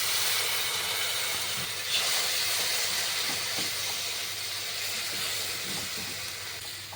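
A little water poured into spice masala frying in oil for egg bhurji, giving a loud, broad steamy hiss that slowly fades over several seconds, with faint scraping and no voices.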